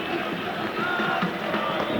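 A large stadium crowd at a Camp Nou exhibition football match between America and Europe applauds and roars in a steady, dense wash of sound that holds evenly throughout.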